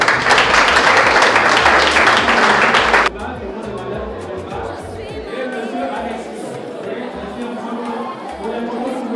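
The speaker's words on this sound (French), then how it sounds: "Vous allez le voir sous les applaudissements." Guests at a civil wedding ceremony burst into dense, loud applause for about three seconds before it cuts off abruptly, leaving a quieter room with voices and soft background sound.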